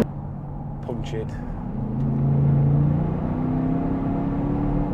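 Audi Q7 with a 4.2 TDI V8 diesel fitted with larger V12 turbos accelerating hard, a loud close engine drone rising in pitch with turbo whine, with brief voices at the start.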